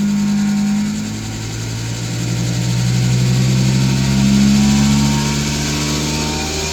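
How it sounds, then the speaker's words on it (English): A loud septic tank emptying truck's vacuum pump engine runs steadily and its revs climb to a higher drone, with a strong low hum throughout. "vacuum pump on, turn the revs up, give it some power."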